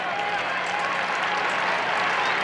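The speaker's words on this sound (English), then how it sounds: "Crowd likes the defense." A crowd at a 1991 Syracuse versus Rutgers college lacrosse game applauds the defense, a steady, loud wash of clapping and cheering from the stands with no break.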